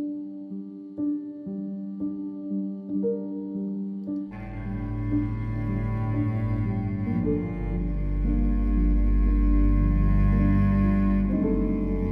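Piano sent through a UAD EMT 140 plate reverb, starting with sparse repeated notes and then swelling into fuller sustained chords with a long, washing plate tail, alone with no voices.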